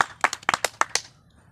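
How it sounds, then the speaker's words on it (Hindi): A few children clap their hands in a short burst of about eight quick, uneven claps, close and crisp, then stop; no voices are heard. "बच्चे बजाए ताली"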